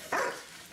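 A dog barks twice in quick succession during a police arrest, two loud, close, sharp barks separated by a short gap.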